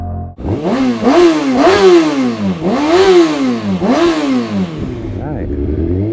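A Kawasaki Ninja 636 motorcycle on a test ride, its engine revving loudly and close in four or five rising and falling sweeps, then settling to a lower idle.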